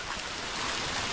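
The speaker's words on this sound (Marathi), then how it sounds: "पानांवरनं जे पाणी पडते त्याचे आवाज येत आहेत" Rainwater dripping from leaves in a Konkan village during the monsoon, heard as a steady, dense patter with no clear individual drops, continuous and fairly close, with no voices.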